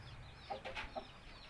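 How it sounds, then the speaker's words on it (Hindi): An Aseel rooster gives a few short, close clucks over a faint background hum, with no talking. "ये हमारा जो मुर्गा है ना, ये प्योर मियाँ वाली नस्ल है।"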